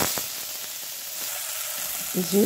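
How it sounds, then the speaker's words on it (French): Chopped onions fry in hot oil in a pan, giving a steady close sizzle with faint crackles and a brief stirring clatter near the end. "j'ai refait revenir les oignons."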